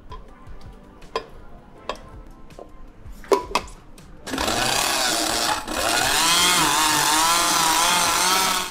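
A blender purées oven-roasted cherry tomatoes: a few clicks and knocks, then the motor roars up loud and steady, its pitch shifting slightly as the mixture churns.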